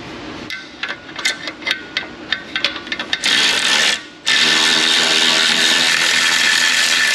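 A stud being threaded and run down on a 2012 Chevrolet Avalanche with a 5.3 engine: a string of quick ratcheting clicks, then a loud, continuous power-tool whir that briefly cuts out and resumes, close by.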